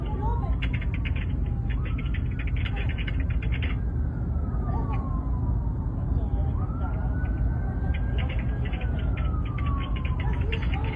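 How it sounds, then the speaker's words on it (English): Emergency vehicle sirens wail on a city street, rising and falling in repeated sweeps at a moderate distance, over constant traffic and crowd noise. "Feel like I can hear the sirens."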